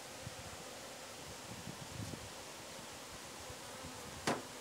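A honeybee colony buzzes in a hive on eight frames, a dense steady hum close by, with a brief rustle near the end.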